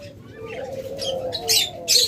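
Rainbow budgerigars, a master pair in a caged bird sale, give short bright chirps and warbles over a steady low background hum, with the calls growing louder toward the end.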